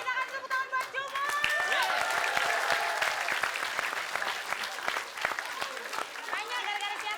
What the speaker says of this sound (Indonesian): Oke, kita akan tepuk tangan buat Jumur.